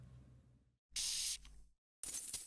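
Two short hissing bursts of spray from the video game Threefold Recital, each sharp and loud against near-silence, separated by a quiet gap with faint low background tones before them.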